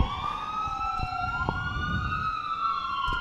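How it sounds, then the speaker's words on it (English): An ambulance siren wails, rising and falling continuously, fairly close, over low rumbling traffic noise. "Oh, an ambulance."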